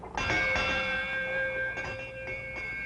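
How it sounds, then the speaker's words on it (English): A ship's bell aboard a boat rings with a few clear metallic strikes whose bright tone hangs and rings on between blows, close and loud with no talking. "Especially if I ring the ship's bell a few times like this."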